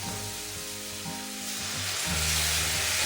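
Water hits a spice paste with chopped tomato frying for jackfruit and prawn curry, and the sizzle swells into a louder steamy hiss, close by and with no one talking.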